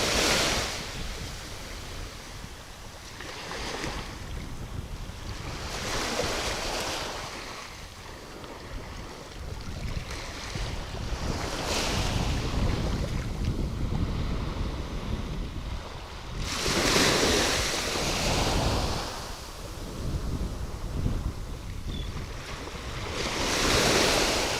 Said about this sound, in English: these crashing waves today, it sounds so smooth, make me want to take a nap.